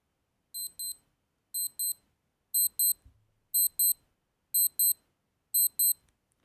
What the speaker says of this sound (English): the last mode is the alarm mode, where you have 5 different alarms as well as your hourly signal